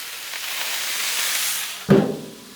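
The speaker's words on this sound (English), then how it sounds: "So spray some water in here, like so." Water sprayed onto a hot Blackstone griddle with smashed potatoes hits with a sudden loud sizzle that hisses and fades, following a steady background hiss.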